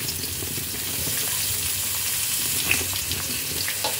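Beans tossed into a pan of frying pumpkin and radish, giving a soft, steady sizzle with light rustling and an occasional faint clink, fairly quiet and without voices.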